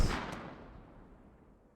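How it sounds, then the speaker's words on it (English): A single mortar shell impact in a video game skirmish, a sharp close boom at the start that decays into a long fading rumble and fizzle, alone without voices. "And now mortars coming in on this."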